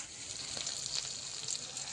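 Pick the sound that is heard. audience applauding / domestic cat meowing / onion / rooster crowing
onion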